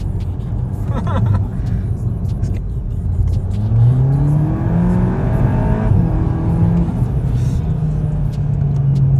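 A Volkswagen Golf GTI Clubsport engine accelerating hard with a hissing, whooshing intake sound, rising in pitch through the gears, close and loud throughout.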